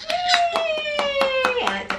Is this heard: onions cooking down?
no